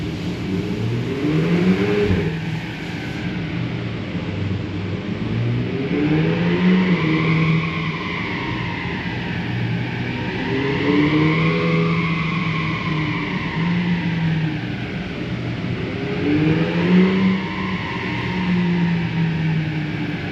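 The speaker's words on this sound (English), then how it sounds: "after being on the dyno for a power run" A high-mileage Audi TT engine revs repeatedly on a dyno during a power run in long rising and falling sweeps, loud and close, with a whirring mechanical drone underneath.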